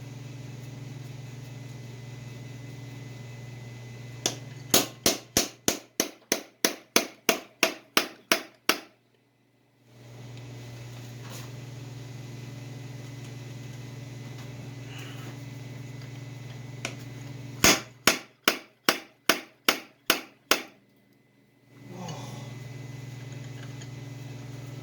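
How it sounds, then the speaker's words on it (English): Two quick bursts of sharp metallic clacks from a slide hammer pulling a tight part from a Mopar 727 TorqueFlite transmission, about ten rapid strikes each, separated by a pause, over a steady low motor hum that cuts out after each burst. "my slide hammer here I just bought"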